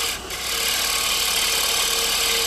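Round nose scraper tilted about 45 degrees and drawn gently across turned wood, giving a steady, continuous rasping scrape that holds even throughout after a brief softer start.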